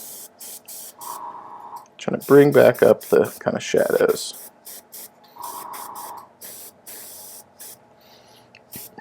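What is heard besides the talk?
spray painting a miniature from the underside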